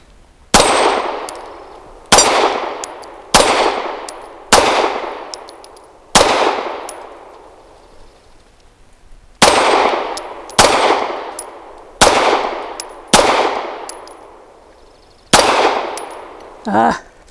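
A Ranger Arms RA9 pistol with a full-size barrel fires weak ammunition at a small, distant steel target that swings when hit. There are ten loud, sharp shots in an uneven rhythm, and each is followed by a ringing metallic clang that fades.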